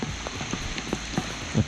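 Rain falling steadily on a river in Khao Sok, Thailand, with a continuous close patter and scattered heavier drops standing out, no voices.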